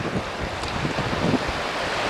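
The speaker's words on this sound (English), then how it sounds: "here we're competing with not only the current, but the wind and the high waves" Strong wind and high waves on the Missouri River near Great Falls, a steady broadband rush of gusting air and choppy water, loud and continuous with no voices.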